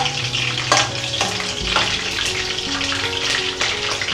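Whole spices tempering as phodni in hot oil for a paneer biryani: a loud, close, steady sizzle with bursts of crackling and occasional utensil knocks, no speech.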